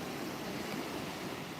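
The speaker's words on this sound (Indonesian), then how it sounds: "alhamdulillah pagi ini ombaknya cukup bersahabat" Ocean surf breaks on the morning beach at Muaro Bayang, Pesisir Selatan, as a soft, steady hiss of washing waves, faint and continuous through a brief moment.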